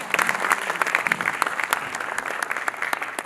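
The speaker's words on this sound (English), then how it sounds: "Can we have a round of applause, please, to all the panelists?" Audience applause for panelists at the close of a panel discussion on cryptocurrency, a short burst of dense clapping from a sizable crowd.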